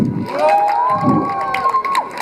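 Live audience cheering and shouting at an indoor show in Poland, loud sustained voices with rising whoops and a shrill tonal cry across the burst, with little clapping.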